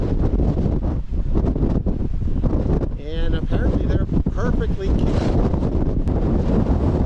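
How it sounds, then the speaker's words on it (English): Strong wind of about 70 miles an hour roars and buffets the microphone throughout at the edge of a mesa in Monument Valley, with a person speaking briefly partway through. "So unfortunately it's really windy"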